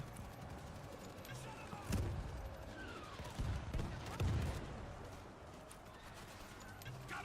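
Quiet bursts of gunfire in World War Z pop out of a steady background hum, with a few thudding volleys spread across the stretch.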